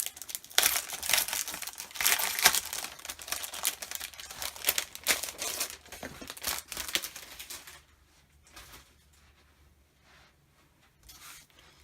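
A bag of cardstock being unpacked, its plastic crinkling loudly and steadily for about eight seconds before dropping to quiet, with a few faint rustles at the end.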